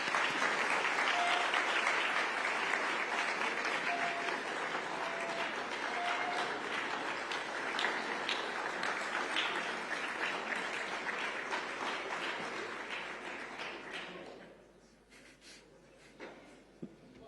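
A large crowd at an official ceremony in Jerusalem marking land for a new U.S. embassy applauds for a long stretch, steady and full, then the clapping fades out near the end, leaving a quiet room with a few stray sounds.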